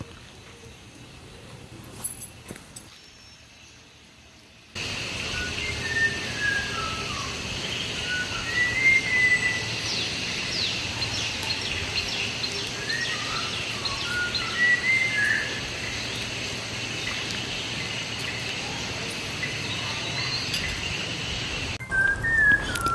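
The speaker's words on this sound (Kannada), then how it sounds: "ಇದೇ ಆ ಒಂದು ಬರ್ಡ್, ಮಲಬಾರ್ ವಿಸ್ಲಿಂಗ್ ಥ್ರಶ್ ಅಂತ." A Malabar whistling thrush sings thin, clear whistled phrases on a hill-station nature walk in the Western Ghats, sounding at a moderate distance over a constant outdoor hiss of wind and insects, with no talk.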